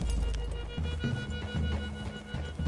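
Horse hooves clip-clop at a steady trot in a Red Dead Redemption 2 forest clearing, close and fairly loud over a low rumbling game soundtrack.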